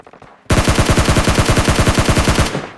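Automatic gunfire in the video game PUBG Lite opens suddenly into a loud, close burst of about twenty rapid shots at an even rhythm, lasting around two seconds, then stops abruptly.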